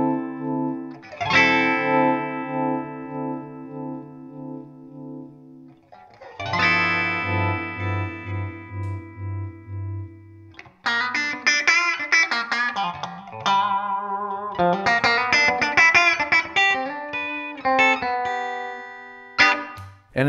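A Zemaitis electric guitar with out-of-phase pickups gives a thin, nasal tone, ringing out sustained chords, then playing quicker picked riffs and runs, alone without talk.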